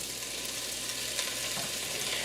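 Kielbasa sizzles in a hot pan with a teaspoon of butter, giving a steady, bright frying hiss with faint crackles, close and continuous with no talking.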